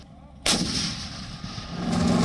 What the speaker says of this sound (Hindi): यह है भारतीय सेना के तोपखाने में शामिल हुआ सबसे नया हथियार, सेल्फ प्रोपेल्ड आर्टिलरी K9 वज्र।